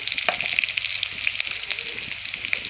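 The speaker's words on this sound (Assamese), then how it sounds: "পিঁয়াজখিনি ভালকৈ মই ৰঙচুৱা কৰি ল'ম" Onions fry in a pan with panch phoron and kalonji, a steady bright sizzle with faint crackles and stirring scrapes, close and continuous with no talking.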